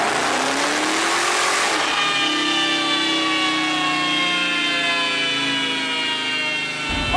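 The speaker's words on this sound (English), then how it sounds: "after the second pull now, we've revved it just a little bit further" A 2017 Dodge Challenger Hellcat engine on a dyno during a tuning pull, revving hard with a rising, whining roar that climbs steadily for several seconds before the throttle is cut abruptly near the end.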